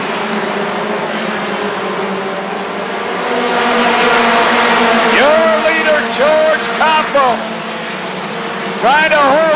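Race cars roar around Rockford Speedway in 1993, with loud engines revving and shifting as they accelerate through a pass, pitch sweeping up and down while an announcer talks over the racing.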